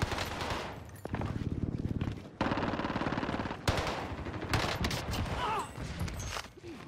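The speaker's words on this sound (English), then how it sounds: "one gun I actually like is the Owen gun" An Owen gun fires in a Rebirth Island video game match, loud rapid automatic bursts of several seconds each with brief pauses between them and layered battle noise.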